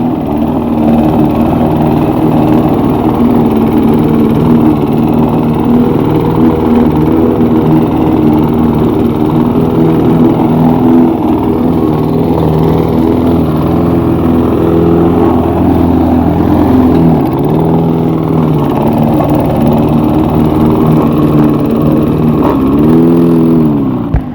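A petrol mower engine drones steadily and loudly throughout, with slight shifts in pitch as the load changes.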